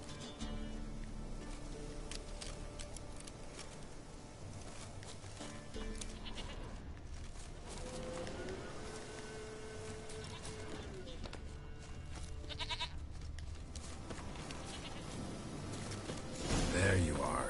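A goat bleats within The Witcher 3 game world, its calls rising over steady ambient game sound, with a louder burst near the end; a voice speaks at points.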